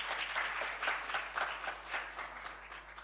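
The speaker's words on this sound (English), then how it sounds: "Another round of applause on that." An audience at the official launch of a youth coding initiative breaks into applause, a dense patter of many hands clapping in swells that rises and eases over a few seconds, with no one speaking.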